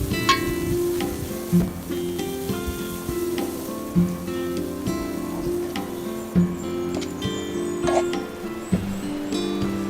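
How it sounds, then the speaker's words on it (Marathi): Chopped onion fries in hot oil over a steady, close sizzle, with light stirring clicks recurring every couple of seconds while a tempering for foraged wild vegetables is cooked. "कांदा आता मस्त लाल होऊन द्यायचा का लाल होऊन टाकून- देऊ"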